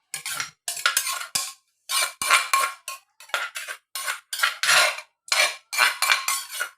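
A metal utensil scrapes against a pot in quick, repeated rasping strokes, a steady rhythm of harsh bursts close by.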